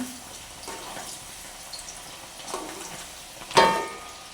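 Snacks deep-fry in bubbling oil with a soft, continuous sizzle and light bubbling, ending with a brief clatter near the end.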